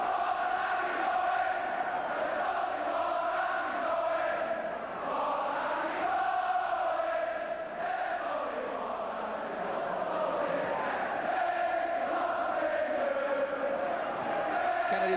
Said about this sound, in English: here's his name echoing around the crowd at that end of the stadium